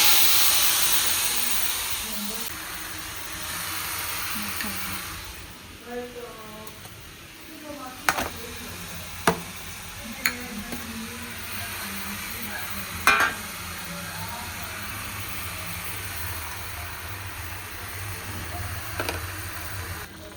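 Washed raw chicken going into a hot pan and frying, a hiss that starts loud and close and then settles into a lower sizzle, broken by a few sharp clatters and stirring knocks, with a voice talking at times.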